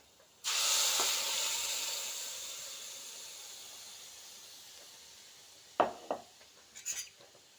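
Ground coconut, tomato and onion paste hits a hot pan for egg curry with a sudden loud hiss that slowly fades, followed by a few sharp clanks of a utensil against the pan.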